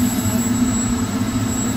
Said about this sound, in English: He cannot fly jets here, but he can definitely taxi it.